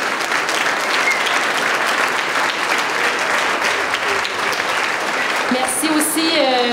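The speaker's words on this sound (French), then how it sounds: "Ça mérite un gros applaudissement." An audience gives sustained, dense applause after a school show at the École de Val-Brillant. Clapping fills the room steadily throughout, and a voice speaks over it near the end.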